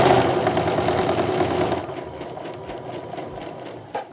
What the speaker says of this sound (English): I'm gonna take it right over to the sewing machine